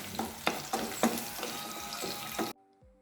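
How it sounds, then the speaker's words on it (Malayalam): Garlic and small shallots sautéing in a pan for kuska biriyani, a close, steady sizzle broken by several loud stirring scrapes, ending abruptly in near silence. "ഒരു 8 ചെറിയ ഉള്ളി ചേർത്ത് കൊടുക്കാം. നന്നായിട്ടൊന്ന് വഴറ്റി കൊടുക്കാം."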